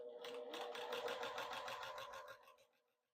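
Sewing machine stitching a bandana bag at about 3.5 stitch length, a steady close whirring rattle of rapid needle strokes that runs continuously before slowing and stopping near the end.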